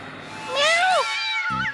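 A cartoon cat lets out one clear, rising-then-falling meow, close and fairly loud, followed by a short low sound at the end.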